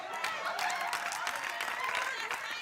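A studio audience clapping at a talk show taping, steady moderate applause from many hands throughout, with faint voices underneath.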